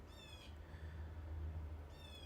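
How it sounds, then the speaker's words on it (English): A blue jay calls twice, faint and distant, with a short harsh call at the start and another near the end over a low background hum. "Sounds like a blue jay."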